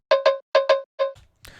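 Lo-fi production cowbell played with slightly shifted timing, five clear metallic strikes in two quick pairs and a single hit, followed by a faint low rumble and a brief noisy burst at the end.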